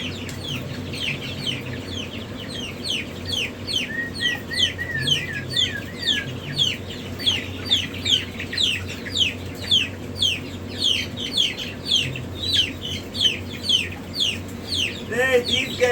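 Chickens in a hatchery cluck and chirp steadily, with a dense, rhythmic chorus of close, busy calls that continues throughout.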